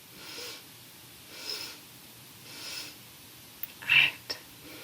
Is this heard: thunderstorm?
no